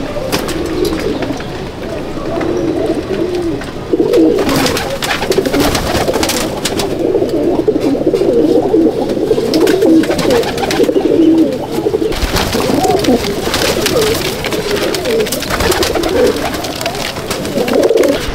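Pigeons coo steadily in a loft, a dense overlapping chorus of low throaty calls running throughout at close range, with a few brief sharper bursts and faint rustling mixed in.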